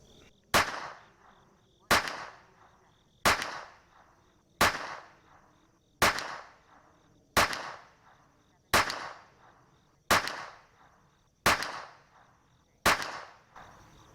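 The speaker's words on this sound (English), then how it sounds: "we're going to take the Aguila High Velocity 10 rounds through the TX-22 competition" Ten sharp .22 LR pistol shots from a Taurus TX-22 Competition firing Aguila High Velocity rounds, evenly spaced about 1.3 seconds apart, each crack followed by a short decaying echo, with a faint high electronic beep between shots.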